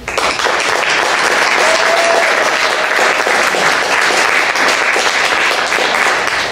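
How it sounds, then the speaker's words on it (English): Loud, dense applause from an audience at a community arts council talent showcase, a sustained roar of many hands clapping that continues evenly without a break. "Please give a warm round of applause"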